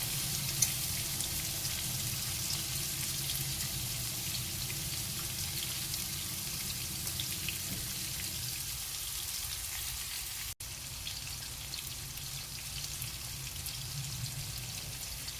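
Prawns fry in coconut oil, giving a steady, close crackling sizzle that holds evenly from start to finish with no voices over it.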